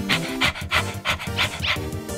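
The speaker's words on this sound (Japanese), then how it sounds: "レッサードッグは興奮してワンワン吠えている。" Lesser Dog from the video game Undertale pants excitedly in quick, evenly spaced huffs, about seven bursts in two seconds, close and clear with no voices.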